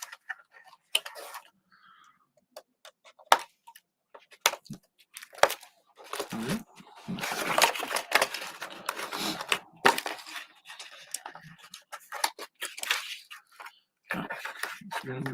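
Plastic packaging being cut and torn open to free a Transformers Legacy United Leader Class Overcharge toy, with scattered snips, crinkles and cracking handling noises, busiest in the middle, and bits of talk.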